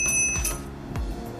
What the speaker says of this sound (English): Bloody bell.